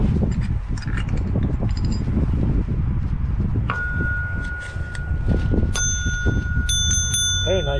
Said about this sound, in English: Very nice sound, this hole driller thing.